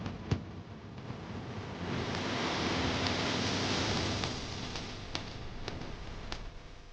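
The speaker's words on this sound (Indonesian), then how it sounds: "Di sisi pantainya wisatawan bisa menikmati udara laut yang segar sembari menyaksikan gulungan ombak yang menawan." Sea waves rolling onto the beach at Rabat, Morocco, a broad soft wash of surf that swells and recedes, steady and moderately distant, with faint scattered clicks and no voices.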